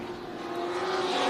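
A race truck engine on an oval speedway holds a steady, loud drone with a strong sustained tone, running continuously through the corners with no talk over it.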